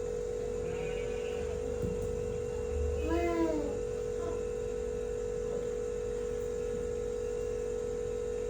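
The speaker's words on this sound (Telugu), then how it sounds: "meow meow అంటదా" A cat meows once clearly at mid-distance over a steady electrical hum in a quiet farm setting, with a few faint fainter sounds around it and no talking.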